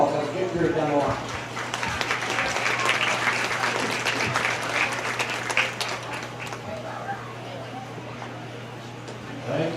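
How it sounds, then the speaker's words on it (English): Crowd applause in a show ring at a county fair market goat show, steady clapping from spectators lasting several seconds, with a steady hum beneath and voices speaking over it. "Give round of applause."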